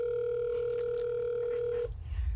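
A steady telephone dial tone hums continuously at a fixed pitch on a callback, loud and alone, then cuts off abruptly near the end, followed by a low rumble.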